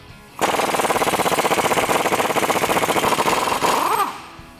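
A 1/2-inch impact wrench with a 24mm socket hammers loose a track bar bolt on a 2021-2022 Ford Bronco, a loud rapid rattling burst lasting about three and a half seconds, then winding down.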